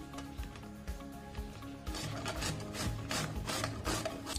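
One kilo of peeled sweet potato grated for halwa, close rhythmic rasping strokes repeating steadily and getting louder partway through.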